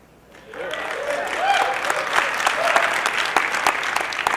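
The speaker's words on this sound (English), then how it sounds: "I'm so glad you clapped at that" An audience at a Creative Cloud gathering during NAB 2014 breaks into applause that swells after a quiet start and holds as dense, sustained clapping, with crowd voices mixed in.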